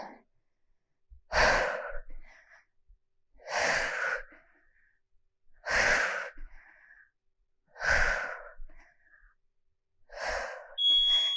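Deep, rhythmic breathing during a dumbbell strength workout, five loud, close exhale bursts evenly spaced about two seconds apart, with quiet gaps between and no talk.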